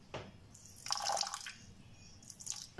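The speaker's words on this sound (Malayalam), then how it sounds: "വെള്ളം ചേർത്ത് കൊടുക്കുക" A tablespoon of water splashes into sugar in a pan on a flame for rava milk pudding, giving short close trickling and dripping bursts over quiet background hiss.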